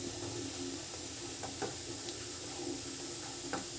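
Meal maker (soya chunks) frying in oil in a pan for a curry, giving a steady, quiet sizzle and hiss throughout, with a few faint stirring clicks and no voices.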